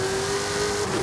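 Ferrari engine in a racing video game revving with a steady sustained tone that drops slightly near the end, loud and continuous with no talking.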